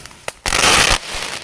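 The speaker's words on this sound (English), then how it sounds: "And here goes the jumbo crackling ball." A jumbo crackling ball firework bursts outdoors in the morning with a sharp pop, then a loud, dense wash of crackling that fades to a lighter sizzle.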